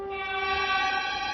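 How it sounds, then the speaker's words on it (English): Sustained, steady tonal blare of a cartoon train horn in an animated dinosaur series, rich in harmonics and held for over a second, heard alone with no talk. "A train! Run!"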